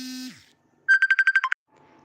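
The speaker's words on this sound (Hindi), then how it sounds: "एक फोन आ गया था।" A phone ringtone for an incoming call during a live Awadhi folk song stream, a clear electronic trill of about six quick pulses after a brief tone, loud and close with no talking.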